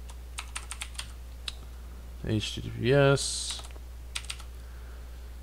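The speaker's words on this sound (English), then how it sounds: "I'll just type it in here." Typing on a computer keyboard, a handful of light close key clicks in short bursts before and after a brief spoken phrase.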